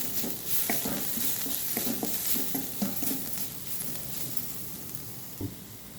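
Chana manchurian with coriander and pepper powder is stirred in a pan, a cluster of quick spoon scrapes and taps over a steady frying sizzle, close up, easing off toward the end.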